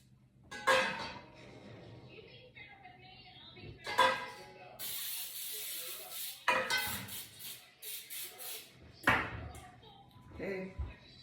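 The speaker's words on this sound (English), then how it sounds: "You want to oil your pans really good so it won't stick." Several short bursts of oil spray hissing onto cake pans, with metal pans clattering between them and a voice talking in the background.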